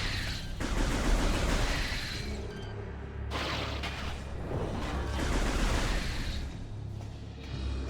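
Enemy fire in Metroid Prime 3: Corruption comes as dense, rumbling blasts and crackling shots, loud and continuous with a short break midway.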